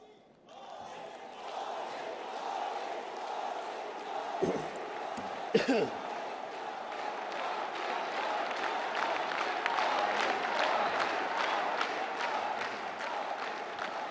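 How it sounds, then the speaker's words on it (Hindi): A crowd applauds loudly at a gathering honouring the Prime Minister at Sri Goudiya Mission, Kolkata. The dense, sustained clapping swells and carries on throughout, with a few coughs and voices mixed in. "जोरदार तालियां"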